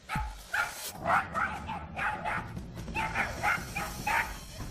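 A terrier mix dog barks in a courtyard, sharp repeated barks in quick bursts, close and fairly loud over a low background rumble.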